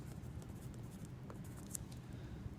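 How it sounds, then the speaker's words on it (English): A pen writing on a surface during a geometry lesson, a soft, continuous scratching texture with faint strokes, fairly quiet with low room hum beneath and no talking. "So I'm just going to draw right here off to the side."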